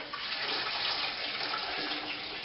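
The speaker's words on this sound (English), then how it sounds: "The grain will just sit on that to drain." Wort drains from a rack of spent brewing grain into a pot below, a continuous close splashing trickle of liquid running throughout.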